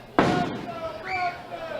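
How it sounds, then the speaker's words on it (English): Fireworks going off around a ballpark on the Fourth of July during a baseball game: one sharp, loud bang opens the stretch, followed by a decaying rumble and faint crowd or announcer voices. "And lots of fireworks around the ballpark tonight"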